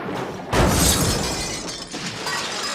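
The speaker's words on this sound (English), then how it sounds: "Before he could fire the gun, the roof of the house fell in." A house roof caving in, with a sudden loud crashing burst of shattering and breaking debris that keeps rumbling and clattering for a couple of seconds.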